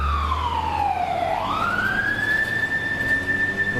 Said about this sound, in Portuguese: o alarme, o soar da sirene por todos os lados